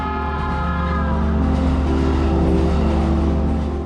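At night, a train rushes into a Tokyo station platform, a loud sustained rumble with tonal humming and whining harmonics building steadily as it draws near.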